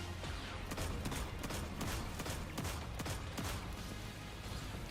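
Hand cannon shots in the Destiny video game, a quick series of sharp, fairly faint cracks fired in an uneven rhythm over a busy background.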